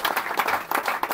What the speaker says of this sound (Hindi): थोड़े से हो जाए तालियां